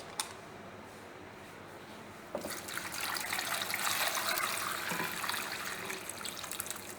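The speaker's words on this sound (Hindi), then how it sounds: "फिर इसमें हम पानी ऐड करेंगे।" Water, about 2 litres, starts pouring into a pot of potatoes partway through, a steady splashing gush that continues to the end, close by.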